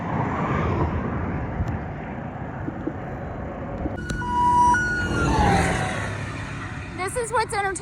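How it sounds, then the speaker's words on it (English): Police cars pass along a road near Lake O in Florida: a broad traffic rush swells and fades, with brief siren tones partway through and a loud warbling siren at the close. "Watching cops go by"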